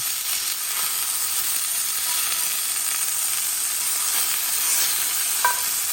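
Strips of beef steak brown in a hot pan with an even, unbroken sizzle and hiss, close and alone, with a brief metallic tick near the end.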